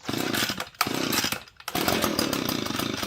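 An Echo PB-250 handheld blower's small two-stroke engine fires after a pull start, roaring loud and close with a brief sputtering dip before catching and running steadily.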